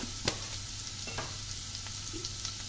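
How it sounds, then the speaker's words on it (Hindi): Onions, garlic and spices with a pinch of asafoetida fry in a pan over a medium flame for a rajma curry, giving a soft, steady sizzle with faint stirring scrapes. "मीडियम फ्लेम पर इसको भूनेंगे ताकि ये जले नहीं"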